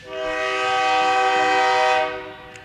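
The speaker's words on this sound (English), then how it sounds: "See, the train like what I said." A passing train sounds its horn in one long, loud, steady multi-tone blast lasting about two seconds, then fades quickly, with no one talking.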